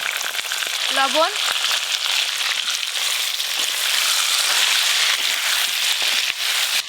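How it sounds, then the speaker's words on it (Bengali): Cut potatoes with turmeric sizzling steadily in hot oil for a mutton curry, an even, close frying hiss with light crackles throughout, while someone talks briefly over it. "মাংসের জন্য এবার আলুগুলো ভেজে নেব"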